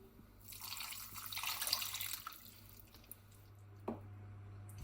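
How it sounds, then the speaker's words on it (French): Stock poured into a cooking pot while making veal axoa, a steady liquid splash lasting a couple of seconds and then fading, followed by a faint clink, close and fairly quiet over a low background hum. "Et le fond d'eau."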